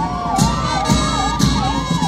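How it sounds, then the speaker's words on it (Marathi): A municipal fire brigade engine's siren wails loudly during a Republic Day parade in Yavatmal, its rising and falling tone repeating in a steady cycle with periodic sharper bursts layered on top. "त्यानंतर येतो आहे नगर परिषद यवतमाळच्या वतीनं अग्निशमन दल"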